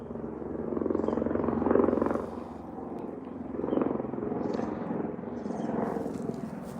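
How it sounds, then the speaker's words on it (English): An orange firefighting or news helicopter flies overhead, its steady rotor drone loud and continuous, swelling and easing in slow waves. "Looks like that might be a firefighting. It's orange. Could be a news chopper too."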